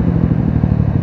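A motorcycle being ridden: a loud, close engine drone with steady, rapid pulsing throughout, and no speech.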